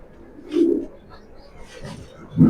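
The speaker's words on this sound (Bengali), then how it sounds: "কবুতরগুলো দেখাচ্ছি আমি" Several Sabji Maxi pigeons, pairs kept with their young in a loft, coo softly: two low, rounded coos about two seconds apart over a faint background hum, with no talking.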